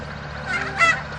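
Turkeys gobbling among other farm fowl such as guineas and peacocks, a couple of close warbling bursts rising over steady background noise.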